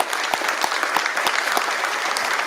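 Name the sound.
audience applause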